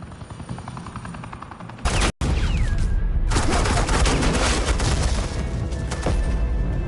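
Sustained automatic gunfire in the Batman The Enemy Within video game, covering suppressing fire: rapid, loud bursts that cut out briefly, then resume dense and continuous with a whining sweep through the volley.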